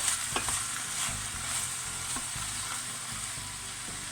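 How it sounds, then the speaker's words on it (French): Swiss chard and ricotta cooking in a frying pan, giving a constant close sizzle broken by soft, irregular stirring scrapes. "Et vous remuez. Pour bien mélanger."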